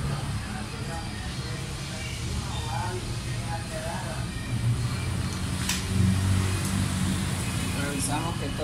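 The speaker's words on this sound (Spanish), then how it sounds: "volvemos a ponerle el capuchón y vamos a encender la moto." A Victory Advance R 110 motorcycle engine is started after its wiring is reconnected, then settles into a steady, low idle rumble that grows slightly louder partway through.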